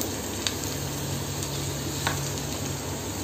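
Onion and green capsicum frying in a pan, a constant close sizzle with a couple of faint clicks from stirring.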